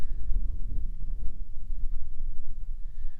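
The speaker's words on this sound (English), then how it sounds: "It's a little windy up here, but great views." Steady wind on a hilltop buffeting the microphone with low rumbling gusts, continuous throughout and no voices.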